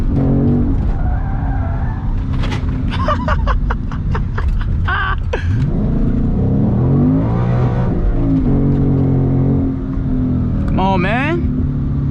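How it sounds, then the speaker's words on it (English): A manual Ford Mustang GT spins through donuts, its tires skidding and squealing over a loud, steady engine roar that swells and revs throughout, close by, with a few sharp bursts of screech partway through and near the end. "First time I've done donuts in this car."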